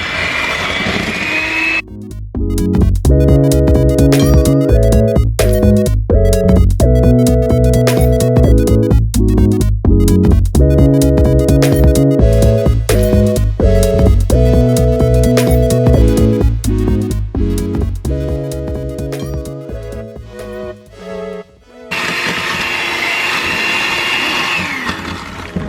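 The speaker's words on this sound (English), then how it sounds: "so I got my mixer here. And let's cream them together." An electric hand mixer creams cookie dough ingredients in a bowl, a loud, steady motor whine running almost nonstop for about twenty seconds, with a short stop near the start and another near the end.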